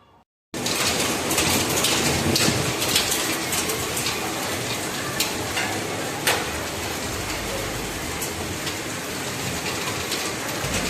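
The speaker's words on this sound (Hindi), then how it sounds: "कितनी ज़्यादा बारिश हो रही है, बहुत ज़्यादा" Heavy rain pours down steadily after days of continuous downpour, a loud, dense broadband hiss that fills the scene from near and far after a brief quiet start, with a few louder splashes and no clear talk.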